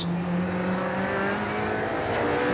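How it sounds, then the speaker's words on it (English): A Radical race car engine at the Jerez circuit during a 2015 European Masters race, loud and close, droning steadily with a sustained tone that rises and falls under throttle. "you can tell from the engine note rising and falling there"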